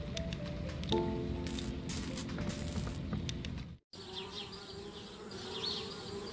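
Buzzing bees around a treehouse in the point-and-click game Anna's Quest, a steady insect drone with a brief dropout partway through, faint and close, with no talk over it.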